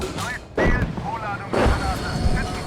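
A tank's main gun fires in the PC game Gunner HEAT, with two heavy, booming blasts about a second apart amid rumbling battle noise and faint voices.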